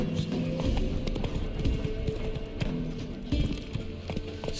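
Roach, the horse in The Witcher 3, gallops along with a steady clip-clop of hooves, with low game ambience and occasional voices mixed in.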